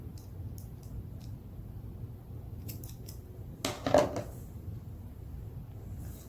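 Scissors snip through sewing thread after a knot is tied, one or two quick close cuts in an otherwise quiet room with faint light ticks before.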